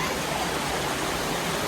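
Waterfall near Ismayilli, Azerbaijan, rushing as a steady broadband roar that fills the whole stretch without any break, close and loud, with no voices over it.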